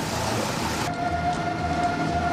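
A train passes through Santa Justa railway station in Seville with a steady, broad rumble of wheels and carriages. A thin metallic squeal runs through the second half, and no voices are heard.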